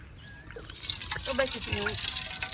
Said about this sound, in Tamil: ஊத்துறீங்களா எண்ணெய் ஓகே